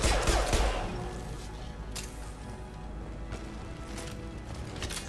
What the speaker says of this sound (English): shooting this pistol the way I have, that's pretty much how you have to use this gun